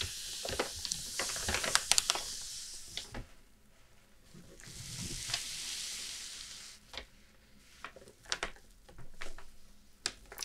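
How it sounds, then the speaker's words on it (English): A vintage paper map is handled and traced up close, giving soft crinkles, rustles and sharp papery taps that come and go in a quiet room. "I really like the way this map sounds."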